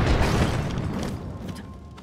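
A single bomb blast against a rock wall in Zelda: Tears of the Kingdom, a deep booming burst that decays quickly over two seconds, with no talking.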